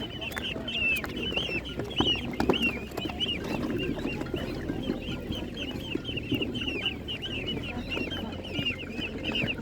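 Ducks, including mulard ducks, cluck and call constantly in a noisy market crowd, many birds at once over a busy background murmur.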